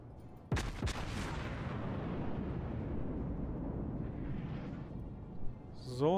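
The battleship Kaiser Nikolai I in World of Warships fires its main guns in two sharp, close blasts a moment apart. A long rolling rumble follows, then a later thud and a short whistling tone.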